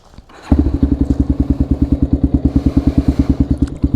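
A motorcycle engine idles loudly and close with a steady, lumpy thumping pulse after being fitted with a new muffler, running alone with no talk.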